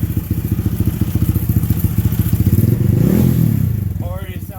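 A Honda Grom motorcycle engine running on E85 fuel, close and loud with a steady pulsing idle that rises into a brief rev and settles, with a voice briefly heard near the end.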